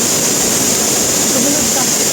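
Tungtung Falls in rainy season, strong flow roaring as a loud, steady broadband rush of falling water, close by, with faint voices beneath.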